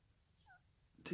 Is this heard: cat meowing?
yes